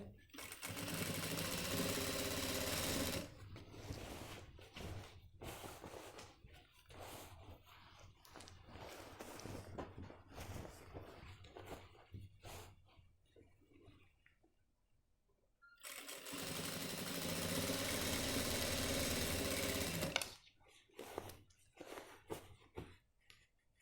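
A sewing machine runs steadily while stitching the waistband of a pair of trousers, in two long loud bursts separated by a stretch of talking with brief machine taps.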